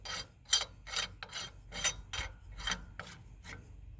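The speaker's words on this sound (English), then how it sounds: "So when you start putting in the nut, do it with your hand only" A large axle nut on a semi truck wheel hub is threaded on by hand, giving a run of short raspy metal scraping strokes, close and fairly quiet, with no talking.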